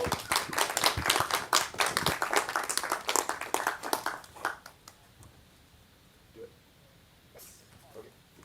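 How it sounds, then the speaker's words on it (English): An audience at a general meeting claps loudly and densely for about four seconds, then the applause thins out and dies away into a quiet room with faint voices. "let's have a big round of applause for Gabriela."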